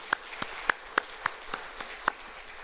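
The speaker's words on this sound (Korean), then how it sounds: "우리 주님께 영광의 박수 올려드리겠습니다" A church congregation clapping in praise during a Friday Korean sermon: a sparse run of sharp, separate claps at a loose steady rhythm, fairly faint and far off.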